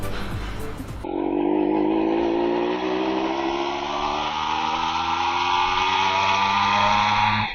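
TVS Max100 two-stroke motorcycle engine revving up loudly and holding a high, buzzing rev after a brief low idle, steady and close throughout.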